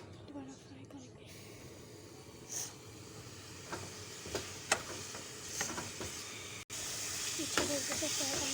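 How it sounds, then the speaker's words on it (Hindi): Ginger garlic paste, half a spoonful, frying in a pan of chicken curry with soft steady hiss and scattered stirring clinks, quiet and close, with a voice talking over it. "अच्छे तरीके से ये अदरक लहसुन डालेंगे पिसा हुआ आधा चम्मच। दोबारा फ्राई करेंगे।"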